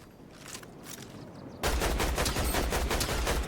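Rapid gunfire in a ranked shooter match: after a quieter stretch of faint scattered shots, a loud, close, continuous automatic burst of evenly spaced shots kicks in and runs for about two seconds.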